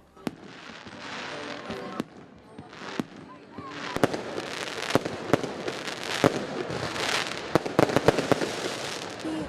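Fireworks burst over the Venetian harbour of Chania at a Christmas tree lighting, with sharp cracks and bangs at irregular intervals amid a crackling wash and crowd noise, growing denser partway through.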